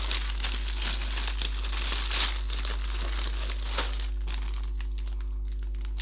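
Plastic packaging around a Warhammer Age of Sigmar magazine crinkles and rustles steadily while being cut open, close up, over a constant low hum.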